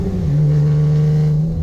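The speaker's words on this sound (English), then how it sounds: "let's do some downshifts here a little bit" Honda Accord with a custom exhaust holds a loud, droning rev on a downshift, the engine note rising slightly and sustained close by.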